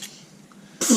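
A single short, sharp sneeze bursts out at the very end after a near-silent stretch.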